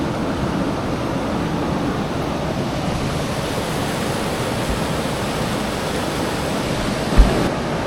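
Rushing water in Clarendon Gorge on the Appalachian Trail fills the scene with a dense, steady roar, close and continuous, broken only by a brief knock near the end.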